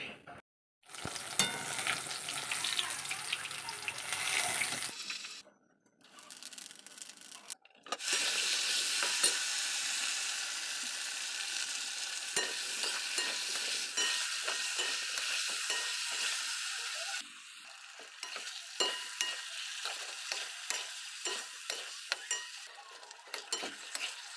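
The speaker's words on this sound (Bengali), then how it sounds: "মাছটা দিয়ে দিলাম তো তাড়াতাড়ি করে ভেজে নিই" Fish sizzles and spits in hot oil in a home kitchen pan, with bursts of frying broken by brief pauses and clinks and scrapes of a utensil stirring and turning the fish.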